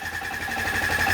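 A Venom x22GT 250cc automatic motorcycle engine idling roughly, with an uneven, pulsing sputter and a steady whine, close up.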